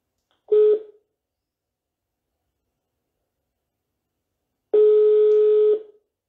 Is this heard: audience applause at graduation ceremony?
no